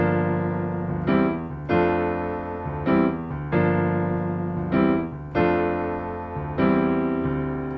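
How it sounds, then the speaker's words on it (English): Solo piano playing a repeating pattern of second-inversion triads in C mixolydian in the upper register over sustained bass notes, steady rhythm, close and full-sounding, no talking. "the right hand is playing the C mixolydian mode with these second inversion triads"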